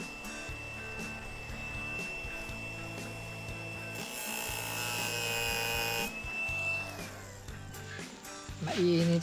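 An angle grinder cuts into a screw during an electrical wiring repair at night, giving a steady high whine that flares into a harsh grinding rasp midway, with intermittent knocks beneath.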